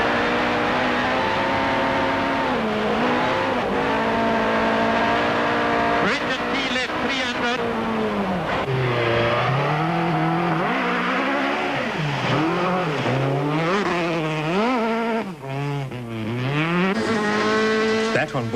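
In-car sound from a Volkswagen Golf rally car on a Tour Natal stage: the engine revs hard and loud, pitch climbing and dropping through gear changes and braking, with a brief tire squeal and a co-driver's voice calling notes over it.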